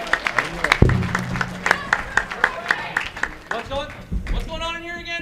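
Audience at BronyCon 2014, a fan convention, claps along in a steady rhythm of sharp, separate claps, with voices talking and calling out over and after it.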